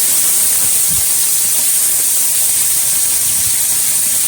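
Ginger garlic paste sizzles in hot oil in a pan for coconut water chicken biryani, a loud, steady, hissing spatter that fills the whole stretch without pause.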